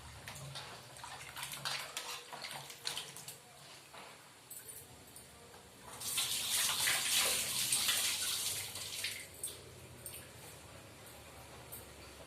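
Greasy dishwashing water drains away in a kitchen after cooking with oil and lentils, a steady close rush of flowing water that swells louder midway, with faint clinks of utensils.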